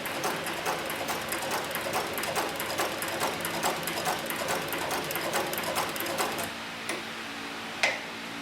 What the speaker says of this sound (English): I'll place the machine back into the forward stitch, and we're going to put a little bit smaller stitch on the machine here